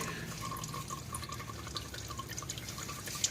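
Oil draining from the filter of a 1993 Geo Tracker during an oil change, a soft continuous dribble and drip of liquid into a container, faint and steady with no talking.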